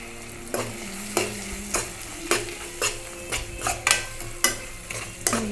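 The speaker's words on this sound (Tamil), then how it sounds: "நல்லா வதக்கி விட்டுக்கோங்க." Ginger garlic paste sautéing in a pan, with about ten rhythmic stirring scrapes of a spoon, roughly one every half second, over a constant close sizzle, and no talk.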